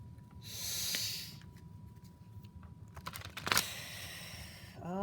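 Tarot cards shuffled by hand give quiet papery riffles and taps in a few short bursts, with soft breathing between them and no talking.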